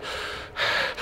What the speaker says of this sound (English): hear my breathing